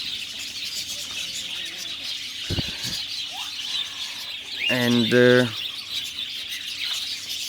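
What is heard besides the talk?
pet birds chirping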